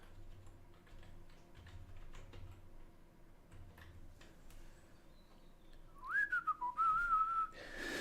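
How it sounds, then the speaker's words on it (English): A person whistles a short wavering melody near the end, clear and close, after several seconds of soft clicking and tapping like keys or buttons being pressed. "There's whistling."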